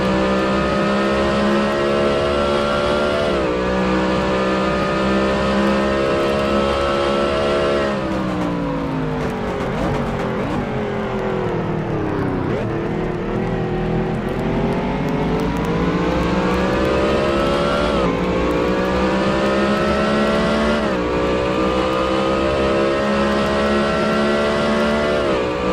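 A NASCAR Cup car engine in a racing game at the Charlotte Roval, heard on board: a loud, continuous roar that climbs through the gears, drops off under braking into a corner, then revs back up again.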